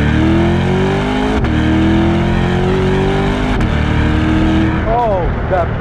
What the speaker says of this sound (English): Oh, the exhaust pops are really nice, and they're actually very unique as well.